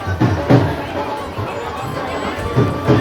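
Crowd of pilgrims on the Vaishno Devi yatra track, a steady background murmur of many distant voices and footsteps, with a few louder close thumps and bursts of nearby chatter.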